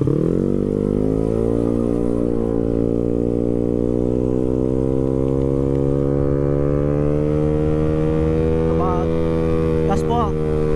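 A Honda Beat 115cc motorcycle with a racing exhaust revs hard in one long sustained pull. The loud, steady engine drone climbs gradually in pitch, with a couple of brief blips near the end.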